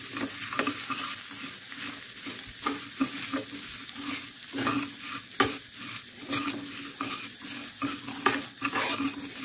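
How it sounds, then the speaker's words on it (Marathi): Sugar syrup for pedha is stirred in a kadhai over the heat: a steady scraping stir with soft sizzling bubbles and occasional metallic clinks of the spoon against the pan, close and continuous throughout. "आपण ही साखर हलवत राहायचं"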